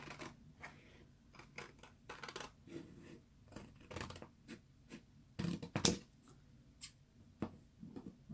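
Very sharp scissors cut along the edge of card in a series of quiet, close snips and crisp slicing clicks, spaced irregularly with short pauses between cuts.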